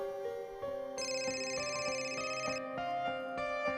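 An incoming call rings on a phone as a bright repeating melodic ringtone with steady evenly spaced tones, heard alone and fairly clear throughout.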